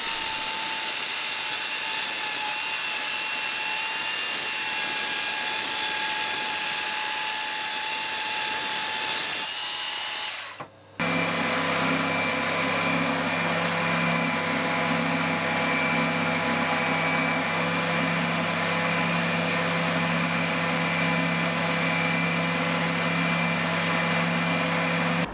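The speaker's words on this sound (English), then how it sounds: "For the iPad screen aperture, I drilled out the corners and then I connected the cuts with a mini circular saw." A mini circular saw cuts the screen aperture of a DIY wedding photo booth box, a steady loud high-pitched whine running throughout with one brief pause partway before resuming.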